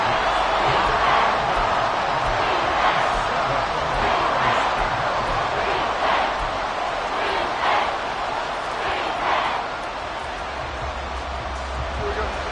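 Stadium crowd noise from a Madden 23 football game on third and seven with fans on their feet, a steady loud roar with swelling cheers throughout, running under play-by-play commentary.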